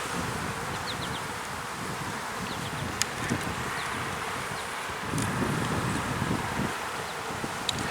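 Honeybees from a hive that has swarmed drone steadily and densely at close range, with occasional louder individual bees passing near and a light rustle of wind underneath.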